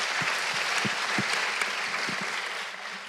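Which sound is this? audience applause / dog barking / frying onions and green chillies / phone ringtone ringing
audience applause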